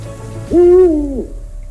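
A Madagascar owl gives a single loud, drawn-out hoot up close, rising then holding steady for under a second against a faint background hum.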